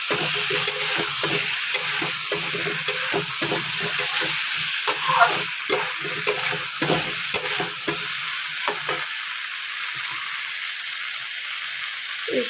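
Amudi fish with potatoes and spices frying and being stirred in a pan, a steady close sizzle broken by repeated scraping stirs for most of the span, then settling to a quieter hiss toward the end.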